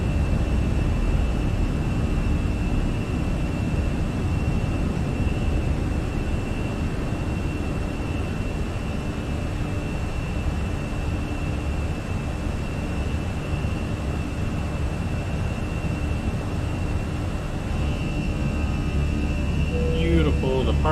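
Fenix A320 jet engines roar steadily at takeoff power in Microsoft Flight Simulator, a constant loud broadband rumble with a sustained tonal whine, under pilot voices calling out the takeoff.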